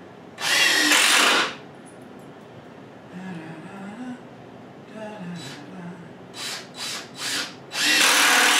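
A DeWalt power drill driving into wood for cellar shelving, with a loud whirring burst at the start, several quick short bursts later, and a final long run, with quieter background sounds in between.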